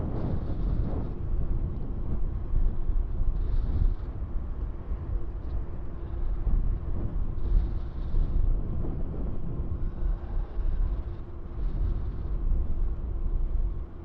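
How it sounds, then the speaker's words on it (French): Strong wind gusts outdoors during an electric mountain bike ride, a low rumbling buffet across the microphone that swells and eases in waves, with faint hissy bursts and no speech. "Puis ce vent il s'arrête jamais pas, il prend une pause d'environ 1 minute, après il ressouffle."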